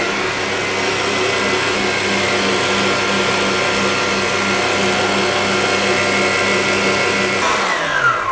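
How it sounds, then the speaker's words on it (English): An electric stand mixer whisks butter into Swiss meringue buttercream, a loud, steady motor whir with a constant hum that shifts pitch near the end. "Just keep whisking it until you've added all the butter."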